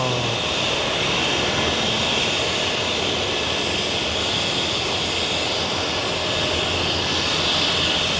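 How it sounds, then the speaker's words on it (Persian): A helicopter flies over the Plaine Morte glacier in the Swiss Alps at about 3,000 m, its engine and rotor making a steady, broad drone that fills the whole stretch with no voices. "اینجا یک دانه هلیکوپتر آمده پیشتر"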